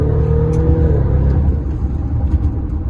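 A 650-horsepower Lamborghini Urus accelerating hard in city traffic, its loud, close engine roar rising and then settling into a steady rumbling drone under road noise.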